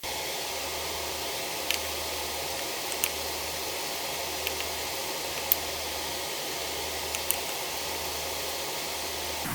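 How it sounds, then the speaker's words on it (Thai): A steady broadband whoosh of a running kitchen extractor fan fills the room while onions fry in hot oil, with a low pulsing hum and a few faint clicks. "เสียงมันดังหน่อยเพราะว่าเปิดเปิดเครื่องอ ดูดอากาศ"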